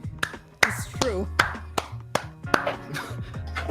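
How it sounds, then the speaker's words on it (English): Several sharp hand claps spaced irregularly, close and crisp, interleaved with light tapping and other small noises in a quiet room. "Oh, the clap."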